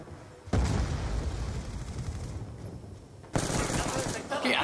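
Video game gunfire in Black Ops 2 bursts in dense automatic volleys with booming hits, loud and near, broken by a brief lull before another heavy burst; a player's voice comes and goes under the shooting.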